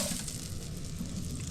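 Melted butter sizzling in a hot pan over an old stove outdoors, a steady close crackling hiss without pause or talk.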